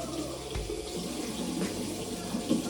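Tap water runs steadily into a home sink, a continuous close splashing rush with small shifts in the flow and no talking.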